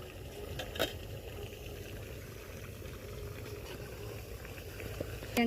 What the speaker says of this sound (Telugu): అలా మూత పెట్టి కొద్దిసేపు ఉడకనియాలి